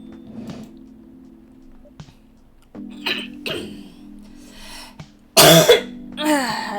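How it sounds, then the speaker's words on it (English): Someone clears their throat and coughs several times in separate bursts with quiet gaps between, ending in one loud harsh cough followed by a rasping throat noise. "I apologize for any coughing"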